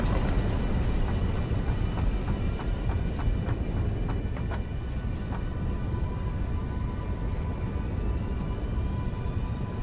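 A train runs steadily in the Satisfactory factory-building game, a continuous low rumble with a rhythmic clatter and a faint tonal whine, heard alone at moderate level throughout.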